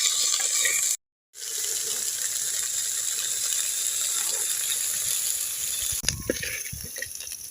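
A kitchen mixer grinder blends tomato, shallots, ginger, garlic, fennel and pepper for crab thokku. Its loud, steady whirring stops briefly near the start, resumes, then ends in a clattering rattle.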